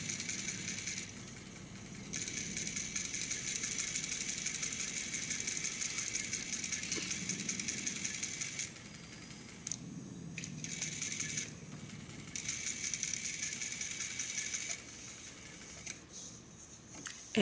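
A sewing machine stitches a vest neckline at a quarter-inch seam allowance, running in steady bursts with short pauses between them; the sound is quiet and close, with no talking.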